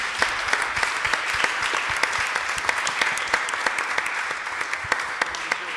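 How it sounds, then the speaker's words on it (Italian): Congregation applause for the young people during a church worship service, a dense, steady wash of clapping from many hands with sharper individual claps popping through, sustained throughout. "Facciamo un applauso ai giovani."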